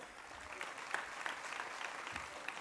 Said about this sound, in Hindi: अगर आप ऐसा चाहते हैं तो ताली बजाकर बच्चों को एहसास कराओ